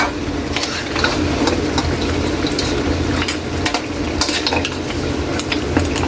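Butter shrimp with saang shellfish is stirred in a pan, with a continuous soft sizzle, bubbling and repeated light utensil scrapes and clinks against the metal.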